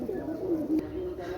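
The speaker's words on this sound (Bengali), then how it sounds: "একজোড়া গোল্ডেন কবুতর, মাশাআল্লাহ" A pair of golden pigeons coo softly up close, a low rolling warble lasting throughout, with a person talking faintly in the background.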